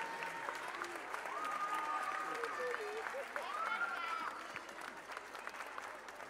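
Audience applause at an ice skating gala in Covo, a sustained crowd of clapping hands filling the rink, with a voice talking over it and some musical tones mixed in, fading slightly toward the end.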